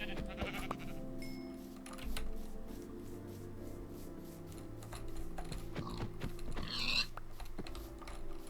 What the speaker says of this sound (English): And here's some more sheep even on top of all that.